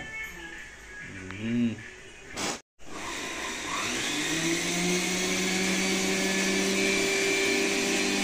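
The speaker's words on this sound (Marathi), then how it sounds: "इकडं चाललंय मिक्सर लावायचं." A kitchen mixer grinder, switched on to grind for varan, cuts in after a short voice and a brief pause, then runs loud and close as a steady, high whirring drone that rises slightly in pitch.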